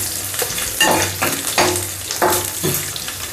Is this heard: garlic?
yes